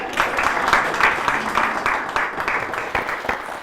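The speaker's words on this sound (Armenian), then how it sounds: "Եկեք բոլորս մի հատ ծափարենք Սիրանուշին։" Audience applause for Siranush rings out close and fairly loud, a steady patter of many hands clapping for a few seconds without a break.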